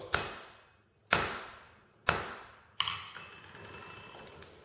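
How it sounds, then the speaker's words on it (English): Four sharp metallic hammer strikes on an anvil, each ringing out briefly, evenly spaced about a second apart, then a lingering ring. "Make a few hammer blows."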